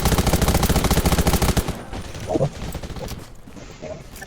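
Rapid bursts of automatic gunfire from a Radiation Zombies shooter match ring out loudly for the first second and a half, then fade to scattered distant shots and game ambience.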